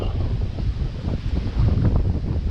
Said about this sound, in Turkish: burada şu anda inanılmaz bir rüzgar var